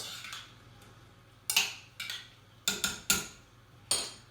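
White cannellini beans, shallots and garlic are stirred together in a pan, giving a handful of sharp metallic clinks and taps of a spoon against cookware, spaced irregularly and fairly close over a quiet background.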